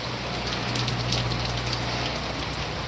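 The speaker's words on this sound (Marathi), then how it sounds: "बस पाऊस बघ बेस्ट पाऊस हा एक नंबर पाऊस" Steady rain falls in the Konkan, a continuous even hiss of drops on surfaces with a low constant rumble beneath, unbroken for the whole stretch and fairly loud, with no voices.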